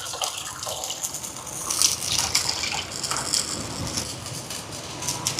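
Tamarind water being poured into a simmering fish curry made with coconut milk, a steady splashing gush of liquid throughout, fairly close, with no talking.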